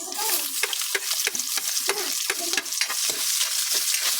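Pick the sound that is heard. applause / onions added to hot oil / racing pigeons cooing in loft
onions added to hot oil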